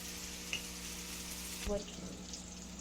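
Shredded cabbage fries in a pan for a local-style cabbage palya, a steady soft sizzle with a brief clink of a utensil against the pan partway through.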